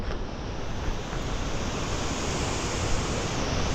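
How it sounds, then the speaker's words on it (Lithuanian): A steady, rushing roar of water falling over a small waterfall in Latvian countryside, close and continuous, with no other sounds. "girdžiu va tą garsą, kad vanduo kažkur krenta"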